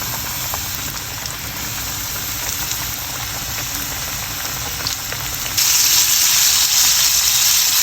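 Flour-coated chicken pieces fry in a pan of hot oil for Korean-style chicken, giving a loud, steady, dense sizzle that grows brighter and more intense partway through, with no talking.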